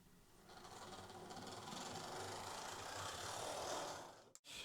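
A Bachmann Class 24 model locomotive with a drive shaft fault runs with a faint, steady mechanical whirr and rattle that rises slightly before stopping abruptly near the end, no talking.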